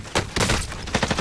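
Rapid bursts of gunfire from Call of Duty Warzone (Modern Warfare), several sharp cracks clustered together with a short gap between volleys, loud and close.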